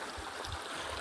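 A small creek in Plumas County mountain wash country flows steadily nearby, its water noise a continuous broadband rush with soft low gurgles and no talking over it.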